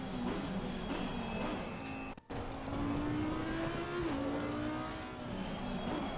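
Race car engine driving a hot lap in a racing game, a steady loud drone that rises and falls through gear changes, broken by a brief dropout midway.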